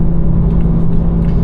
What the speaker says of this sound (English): it's a standard exhaust that came with the manual transmission edition, which sounds really good